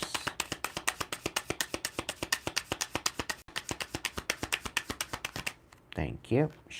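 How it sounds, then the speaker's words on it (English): Rapid, steady riffling of tarot cards shuffled by hand, close up and continuous, with a brief pause midway and a short voice at the end. "I prefer shuffling them by hand."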